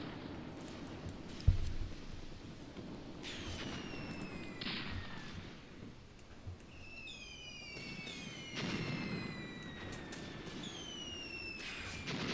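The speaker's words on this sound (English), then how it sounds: "A lot of enemy machine guns or mortars." Enemy machine gun and mortar fire in the World War II tactics game Graviteam Tactics: Mius Front. Falling whistles of incoming rounds are followed by dull thumps and scattered bangs at moderate distance.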